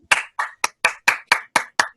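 Eight crisp, evenly spaced hand claps in quick succession, loud and close, coming through a video call at a university signing-day celebration, with no speech over them.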